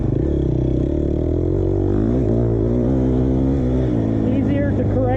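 2020 KTM 250 XCF dirt bike engine droning steadily while riding at Rivers Edge, loud and close with rising and falling harmonic pitch through gear changes, continuous for the whole stretch, with a voice faintly present.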